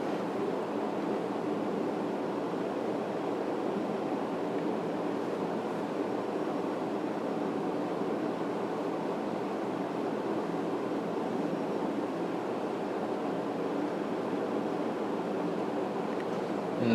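Wind blows steadily outdoors as a continuous, even rushing noise with a low rumble, close to the microphone and with no other sounds.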